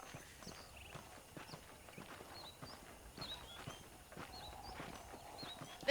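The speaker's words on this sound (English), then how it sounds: "The horses are saddled up over here." Horse hooves clip-clop at a walking pace in the Western video game Red Dead Redemption, steady and fairly quiet, with faint chirps in the background.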